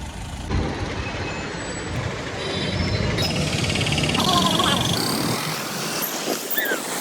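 Busy city road traffic at a signal in Hyderabad, a steady roar of trucks, buses and cars passing close with hissing brakes, and someone talking over the noise.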